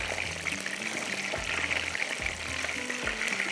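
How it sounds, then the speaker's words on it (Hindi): Nargisi kofta frying in shallow oil, a steady close crackling sizzle that runs throughout without talk. "बस इसको थोड़ा सा और फ्राई होगा, फिर मैं इसको टर्न करूँगी।"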